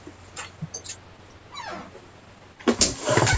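A dog whimpering indoors while waiting to be let out, a few high whines and yips building to louder, closer whimpers toward the end, no talk.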